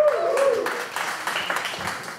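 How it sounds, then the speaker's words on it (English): A small panel audience gives a short, light round of applause for a speaker, sparse clapping heard right after a voice finishes speaking. "I would love it if you'd give Grant a little round of applause"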